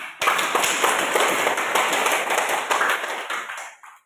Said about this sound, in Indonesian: Nah, kita beri tepuk tangan dulu untuk si dahulu.